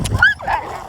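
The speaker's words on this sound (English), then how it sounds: "Dogs." Dogs bark and yelp close by, giving a couple of sharp, whining barks in quick succession over a low background rumble.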